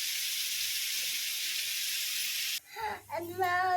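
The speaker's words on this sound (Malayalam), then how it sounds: "എന്നിട്ട് നമുക്ക് കൊത്തി അരിഞ്ഞ് വെച്ച് സവാള ഇട്ട് കൊടുക്കാം" Finely chopped onion with salt fries in hot oil, a loud, dense, steady sizzle for a couple of seconds, then a voice speaks briefly as the hiss drops away.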